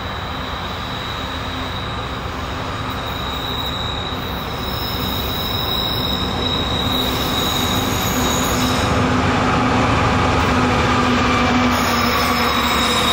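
Norfolk Southern AC44C6M diesel locomotive, rebuilt from a C40-9 Dash-9, passing with a train: steady loud rolling rumble of wheels and cars with a high metallic wheel squeal, growing slightly louder toward the end.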